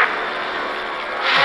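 A helicopter roars in a Spider-Man video game cutscene, a steady loud whirring engine drone that swells slightly toward the end, with no speech.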